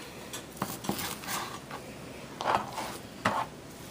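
A knife cuts food into cubes on a cutting board in a home kitchen while preparing a kimchi rice chicken stir-fry, giving a handful of light, irregular taps and clicks, fairly quiet and close.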